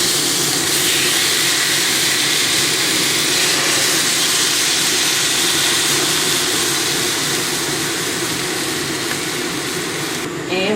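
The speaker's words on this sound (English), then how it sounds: "And we're going to fry it up until it's very nice and tender." Marinated flank steak sears in a cast iron skillet, giving a loud, steady, broadband sizzle that holds without a break throughout.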